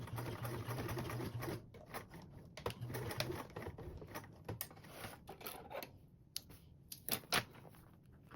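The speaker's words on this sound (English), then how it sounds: "And then we can sew across our bottom line" A sewing machine stitches across the bottom seam of a convertible duffle bag, running in close steady bursts with short pauses, near and moderately loud, fading toward intermittent brief stitches at the end.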